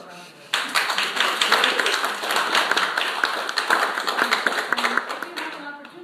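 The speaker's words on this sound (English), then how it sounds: "So give her a round of applause." A room full of people applauds, dense rapid claps holding steady for several seconds after a quiet start.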